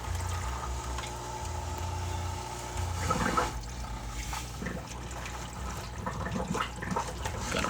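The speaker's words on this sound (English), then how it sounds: "Kind of hear the canister filter going now" An aquarium canister filter primes, water rushing and gurgling through its pipes, with a low hum in the first seconds and then trickling and splashing bursts, fairly faint and close.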